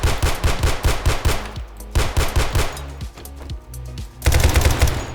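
Tec-9 machine pistol fire in the video game 7 Days to Die: loud rapid bursts of shots, a fast string at first, then scattered shots with gaps, and another rapid burst at the end.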